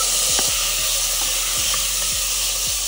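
Cumin seeds, onion and tomato sizzle loudly in a hot pan, a steady frying hiss broken by regular clacks of stirring, with no voices.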